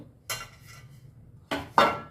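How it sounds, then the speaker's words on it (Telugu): Metal pots made for sarva pindi clink and clatter together in a few sharp knocks, close by and otherwise quiet. "ఇవి సర్వపిండి కోసం ప్రత్యేకంగా ఉంటాయండి గిన్నెలు"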